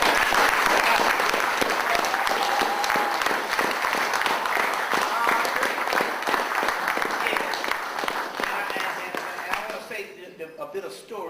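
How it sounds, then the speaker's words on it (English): An audience at a talk gives a sustained round of applause, dense clapping filling the room at full strength before fading out near the end. "Just want to give you a round of applause"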